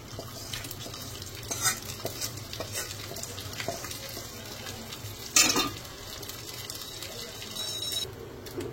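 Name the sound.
rice frying in a pot for pulao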